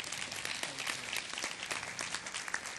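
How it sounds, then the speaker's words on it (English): Conference audience applauding a presentation, a steady wash of many hands clapping at moderate distance throughout, with no voices over it. "can we give another round of applause for that excellent presentation?"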